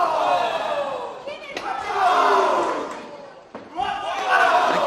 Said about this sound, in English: The crowd are chanting, please don't stop.